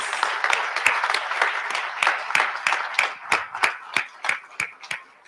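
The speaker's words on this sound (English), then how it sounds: "give a round of applause to our own Jalen Beatty, who's in the sound booth." An audience at a community celebration claps in a brisk burst of applause, sharp individual claps standing out near the microphone while the overall clapping thins and becomes more sporadic toward the end.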